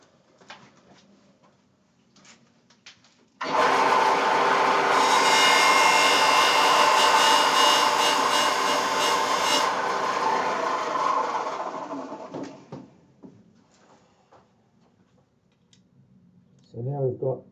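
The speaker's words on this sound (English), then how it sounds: "I just need to do that side on the spindle." A spindle sander shaping a curved piece of guitar wood in a luthier's workshop runs as a loud, steady grinding hum for about nine seconds, then winds down, with quiet handling noises before and after.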